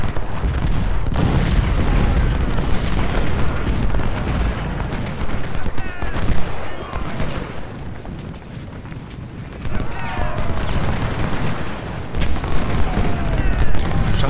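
Dense battlefield din from the Ultimate General: Civil War video game: a continuous wash of gunfire and booming artillery, with horses among the troops, loud and unbroken with talk faintly mixed in.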